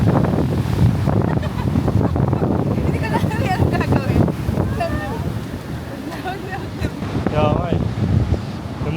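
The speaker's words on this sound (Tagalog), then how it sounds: "Malakas na hangin." Strong wind roars steadily at a seashore in San Felipe, Zambales, in the Philippines, buffeting the microphone throughout while people talk underneath.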